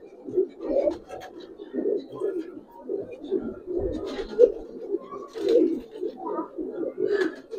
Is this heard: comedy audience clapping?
no